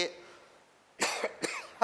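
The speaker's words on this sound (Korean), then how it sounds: "기침이 왜 나오지?" A person coughs twice in quick succession, sharp and close, after a quiet stretch during a math lecture.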